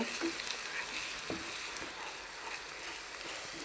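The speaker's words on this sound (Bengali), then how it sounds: "এখন আমি গরম মশলা সব ধরনের গরম মশলা দিয়ে দেব দিয়ে আর একটু লাল করে মশলাটা পাকিয়ে নিব" Garam masala and spices fry in a pan for chicken bhuna, giving a steady soft sizzle with a few faint stirring scrapes, quiet and continuous with no talking.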